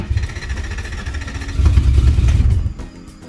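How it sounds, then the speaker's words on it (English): A Toyota Celica RA64 with a swapped 1UZ V8 cranks but fails to fully start. A low, churning rumble rises briefly and then fades out over a few seconds, with no talking. "it gives me ignition signal like it's trying to start and not fully starting again"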